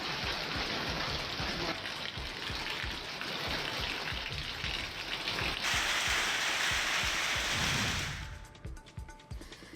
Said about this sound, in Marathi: धाराशिवच्या उमरगा परिसरामध्ये गारांचा पाऊस पडला असल्याचं बघायला मिळतंय